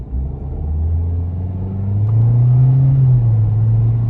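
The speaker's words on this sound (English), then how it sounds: "So let's see if I can just do it one time real quick. Give it some more throttle." A 2022 Toyota Corolla SE hatchback with a CVT transmission accelerating under added throttle, heard as a steady low engine drone that rises smoothly in pitch, holds, then eases back, close and loud with no talk.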